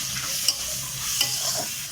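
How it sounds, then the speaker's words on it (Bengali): Onion and tomato frying in hot oil with green chilli and five-spice in a Bengali fish curry pan, a steady close sizzle with a couple of sharp stirring clinks of a spatula. "এবার আমি পেঁয়াজ আর টমেটোটা এর মধ্যে দিয়ে একটু ভাজা ভাজা করে নেব।"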